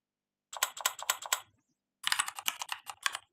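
Someone types SQL database commands on a computer keyboard during a live practice session: two quick bursts of crisp, close key clicks separated by a brief pause, with no talking.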